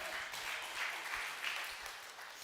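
An evening church-event crowd claps steadily, a continuous wash of applause from many hands heard at a moderate distance with no break.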